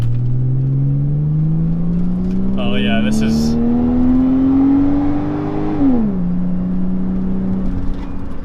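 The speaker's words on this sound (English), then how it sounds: "we can give it a little bit of gas coming out of this red light here and just see how it responds to" A 2008 Saab 9-7X with a naturally aspirated straight-six pulls away from a red light, engine note climbing steadily under throttle before a gear change drops the pitch, heard from inside the cabin with brief talk over it.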